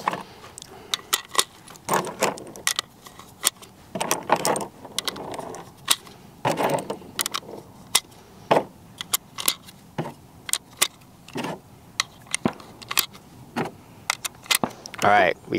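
Sharp metallic clicks and snaps come in an irregular series as rounds are pressed one by one into a Draco rifle magazine, close up and crisp.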